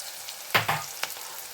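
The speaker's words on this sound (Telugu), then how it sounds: "ఆనియన్స్ అనేవి ఫాస్ట్గా ఎగుతాయి ఆనియన్స్ వేద్దాం ఇప్పుడు" Onions dropped into hot oil in a pan for a brinjal curry, giving a short burst of sizzling frying with a couple of stirring clatters, close and moderately loud, no talk.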